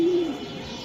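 A racing pigeon gives a single short, low coo close by, fading quickly into quiet background.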